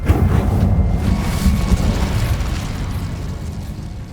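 A blast of fire erupts from an Incendio spell in Hogwarts Legacy, a loud whooshing burst up front that rolls into a sustained roar and slowly fades over several seconds, with no talk.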